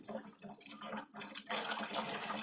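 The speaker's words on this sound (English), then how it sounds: "This is how I have to water Cupcake now" Tap water runs steadily to give a dog a drink, a broad hissing stream that surges and dips in the first second before settling into a loud, continuous flow.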